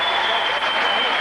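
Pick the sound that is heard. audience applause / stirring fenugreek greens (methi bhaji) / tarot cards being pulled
audience applause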